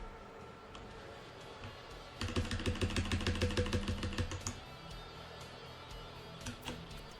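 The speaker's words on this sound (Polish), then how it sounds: "klawiatura mechaniczna" Rapid, even clatter of keys on a mechanical keyboard, about two seconds of close, crisp clicking that starts abruptly and stops, with a quiet background and no speech.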